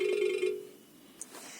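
A phone rings with a short burst of bright electronic tone that cuts off after half a second, leaving quiet room noise and a couple of faint clicks.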